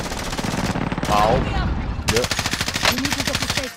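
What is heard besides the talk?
gunfire in a video game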